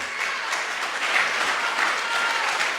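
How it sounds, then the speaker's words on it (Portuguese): Loud, dense congregational clapping during a revival church service, continuous and close throughout the short stretch. "aplaude a Ele, adore a Ele."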